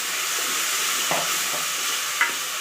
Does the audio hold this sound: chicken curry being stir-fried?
yes